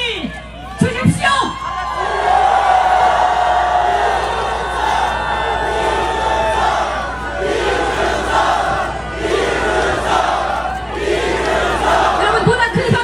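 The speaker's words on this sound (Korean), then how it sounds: "여러분, 보다 큰 박수와 함성을 주십시오" Large crowd at a Korean election rally for presidential candidate Lee Jun-seok cheering and shouting loudly in sustained waves, with a few sharp claps or bangs near the start and voices chanting throughout.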